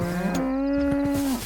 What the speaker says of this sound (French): Oh, c'est des vaches, ouais, la même.